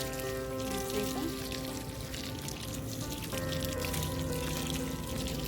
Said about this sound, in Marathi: आज मी झाडांना पाणी घालते